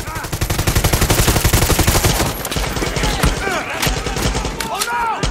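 Rapid automatic gunfire in the video game Far Cry 6, loud and close with dense repeated bursts for the first seconds, then scattered shots and thumps continuing alongside game effects.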